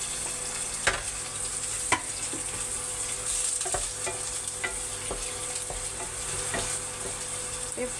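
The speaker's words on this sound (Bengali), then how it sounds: "এবার আমি তেলের মধ্যে পেঁয়াজটা দিয়ে নিব।" Onion frying in oil in a wok for a sweet-sour-spicy pumpkin dish, a steady close sizzle with occasional sharp clinks of a stirring utensil against the pan.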